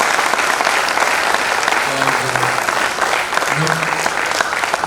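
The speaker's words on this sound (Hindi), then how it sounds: "तो एक बार फिर इनके नाम पर ज़बरदस्त ताली बजा दीजिए।" Loud, sustained audience applause fills the hall after a stage performance of the play Rashmirathi, a steady dense clatter of many hands with a few voices briefly calling out beneath it.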